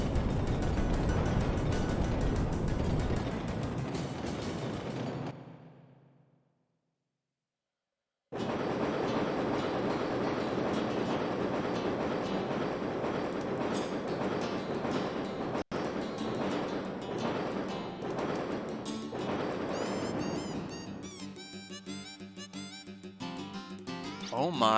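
Train running on rails in the video game Wild Arms 2, a steady loud rumbling mechanical roll that drops out briefly, then resumes with clattering detail and music-like tones toward the end.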